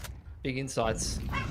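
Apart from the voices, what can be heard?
dog barking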